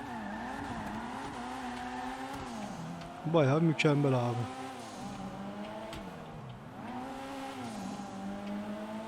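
Car engine in GTA 5 Online humming steadily with rising and falling revs, a brief louder burst of revving or tire noise midway, under a man's speech.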